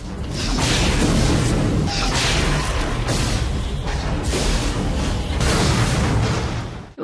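Gunfire from the 1987 film Predator, weapons shooting into jungle trees: a loud, dense sustained barrage of bursts and booms with no clear gaps, cutting off abruptly at the end.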